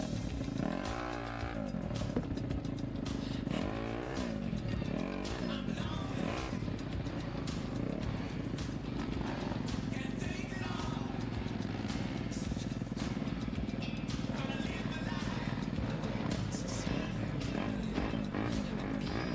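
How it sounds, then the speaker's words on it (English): Speedway dirt bikes racing at a solo championship night meeting, a continuous loud roar of several engines revving and rising and falling as they pass, with no talk over the din. "Here they come. The crazy people on their dirt bikes."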